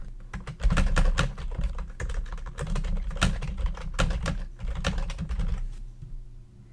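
Fast typing on a computer keyboard, a rapid irregular patter of close key clicks in quick bursts with brief pauses, ending in quiet.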